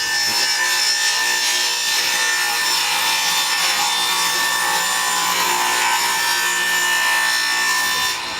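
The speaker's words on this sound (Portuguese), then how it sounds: "a serra circular ela tem um ruído também" Circular saw cutting wood, a steady, loud high-pitched rasping whine held for about eight seconds before stopping abruptly, heard alone with no talk.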